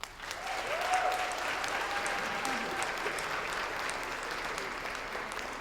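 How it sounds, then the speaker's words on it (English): An audience at a school district speaking event claps steadily, a sustained wash of applause that holds at an even level from start to finish with no voices over it. "Round of applause for Ms. Purcell."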